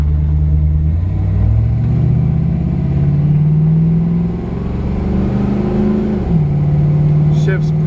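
A 1971 Chevrolet Camaro engine runs with a loud, steady low rumble whose pitch rises gently, then dips and settles back to an even idle.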